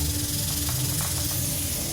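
Steam hisses hard and steadily from a pressure cooker cooking potatoes, a close, unbroken rush with faint whistling tones beneath and no talking.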